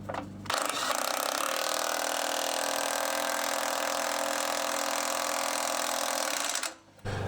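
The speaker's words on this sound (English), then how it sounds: "I'm going to snug this bolt down." A powered tool runs the wrench that snugs down a bolt on a shackle relocation bracket of a 1998 Jeep Cherokee. It gives a loud, steady mechanical whir lasting several seconds that then cuts off abruptly, with no speech.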